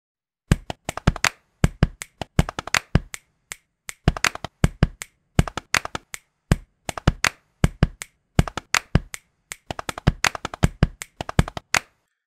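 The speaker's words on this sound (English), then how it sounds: "Let's expand our sounds to include leg pats." Body percussion with leg pats and hand claps: sharp, close percussive hits in steady groove patterns and short bursts, loud and alone without any talk.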